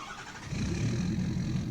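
A 1999 Ford F350 with a 7.3 diesel engine cold-starts in Farming Simulator 19: a brief crank, then the engine catches into a loud, steady, rumbling low idle.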